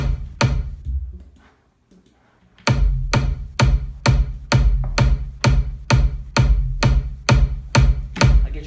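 Layered kick and sub kick drums programmed in FL Studio thump in a steady four-on-the-floor pattern, punchy and loud with deep low-end tails. Two opening hits precede a brief pause before the regular beat resumes.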